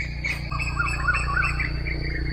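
Songbirds chirp in short, bright tweets over a low steady background hum, moderately close and continuous, with no talking.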